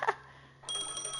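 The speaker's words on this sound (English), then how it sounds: "Wanna listen in? A phone." A telephone ringing in the Honkai Star Rail video game: a brief click, a short pause, then a bright, steady electronic ring that starts abruptly and holds at moderate volume.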